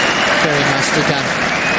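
Applause rises from the crowd at a professional tennis match at Indian Wells, a dense clapping wash heard under a commentator's voice.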